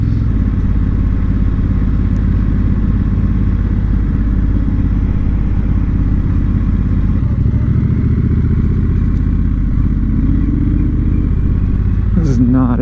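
A Triumph Bobber motorcycle heading off-road toward a lake, its engine a steady, loud low drone throughout with a faint rattle on rough ground, ending in a brief clatter; no clear voices on top.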